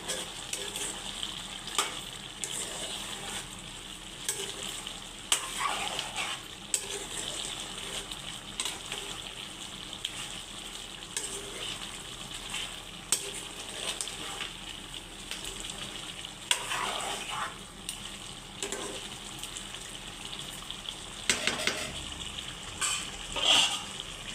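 Farm chicken frying in oil in a pan, a steady low sizzle with intermittent stirring scrapes and occasional spatters, close and fairly quiet, no talking.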